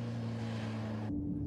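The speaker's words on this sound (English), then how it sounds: "He's revving it, but too high and still on and off the brake lever" A motorcycle engine revved too high while the rider works on and off the brake lever, pogoing the bike; a steady, close droning hum holds throughout, its pitch shifting slightly near the end.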